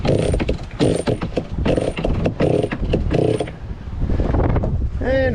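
A sail is hoisted on a sailboat with the engine off: a run of rhythmic ratcheting, rattling bursts from lines and winch, close to the microphone, with wind noise and a voice near the end.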